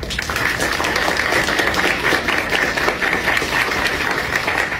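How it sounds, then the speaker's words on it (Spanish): A crowd at a book presentation at the FIL 2024 book fair applauds loudly and continuously, dense clapping filling the whole stretch without letting up. "Un fuerte aplauso para él, por favor."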